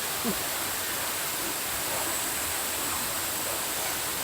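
A steady, broadband rush of falling water fills the scene, constant and even throughout, from Bidulginang Falls in Pocheon, South Korea, heard from nearby, swollen after rain.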